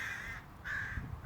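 A crow gives two hoarse caws in a row, faint and distant over low outdoor rumble.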